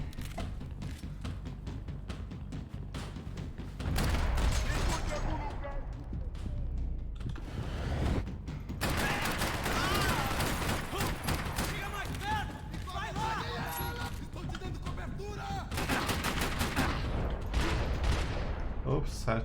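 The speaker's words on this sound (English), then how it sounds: "Atirar! Continue atirando!" Rapid gunfire bursts in the shooter game Max Payne 3, dense overlapping shots and heavy thumps in continuous volleys, loud and close, with in-game voices shouting over the shooting.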